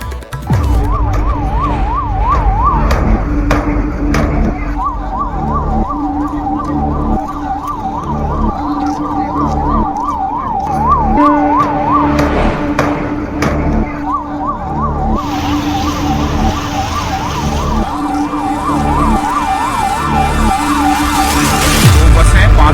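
Wailing ambulance sirens arriving at SMS Hospital in Jaipur after a fire rise and fall in a steady cycle amid street and traffic noise, with a second siren tone joining partway through.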